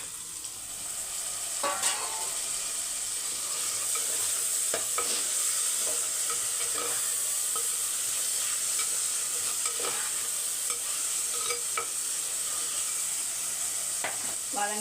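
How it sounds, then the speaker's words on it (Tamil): Onions and tomato fry in a pan with a continuous close sizzle, while a spoon scrapes and taps the pan at irregular intervals for about fifteen seconds. "வெங்காயம் வதங்கட்டும்"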